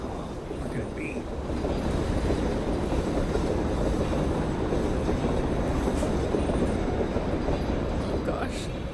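A heavy train wagon in the video game Reveil rumbles and rattles continuously along the rails, loud and close, with faint squeals and clanks over the steady roar.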